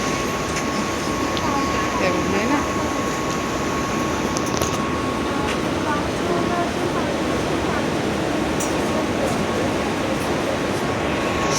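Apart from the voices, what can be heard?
train at Panvel railway station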